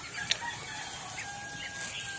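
Chickens cluck faintly in a coop alongside ducks, a soft, continuous low murmur of fowl with one sharp peep near the start and no talk.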